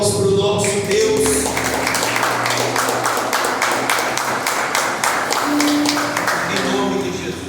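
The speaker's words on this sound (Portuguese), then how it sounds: "Palmas para o nosso Deus" A church congregation claps hands together during a worship service, a dense, steady patter of many hands with a sung or spoken voice carrying over it throughout.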